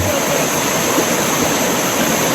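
Rocky mountain stream in a forest river setting, water rushing and splashing over stones in a loud, constant, close roar, with no talking.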